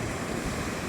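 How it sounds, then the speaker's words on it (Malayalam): Strong sea waves and gusting wind roar at a river mouth where fishermen cast nets, a dense, continuous wash of surf close by. "ശക്തമായ തിരമാലയും കാറ്റുമാണ്."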